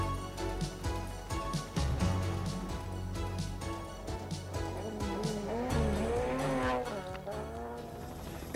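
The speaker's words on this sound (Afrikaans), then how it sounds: "Gibson wat sy concentratie verloor en die motor laat tollet in die pad" A rally car spins on a road with tyres skidding and squealing, engine revving and wavering through the slide, fairly loud and close, with no talk over it.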